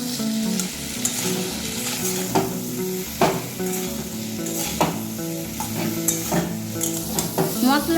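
A spoon stirring dried red chilli paste with spices in a frying pan for a vegetarian potato and drumstick curry, with steady oil sizzle and repeated scraping strokes against the pan, close and clear.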